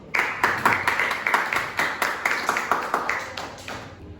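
Applause from an audience at a panel discussion, a steady rhythmic clapping pattern with bright, even beats that holds for several seconds before thinning out toward the end.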